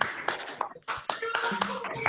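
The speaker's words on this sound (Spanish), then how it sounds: "les aplaudimos a las chicas como siempre" A small online group claps for the girls on an open microphone, a short run of scattered, close handclaps with a few distinct strikes and faint voices.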